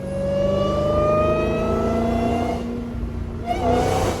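A Dodge Hellcat's supercharged engine revs hard with a rising supercharger whine, tones climbing steadily, then dipping briefly before surging again, loud and close inside the car.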